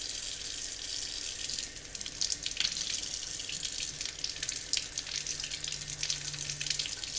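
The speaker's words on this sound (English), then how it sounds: "I'm just going to put the water on" Tap water runs steadily into a salon sink, a continuous hiss and splash that swells a little partway through, with no talking over it.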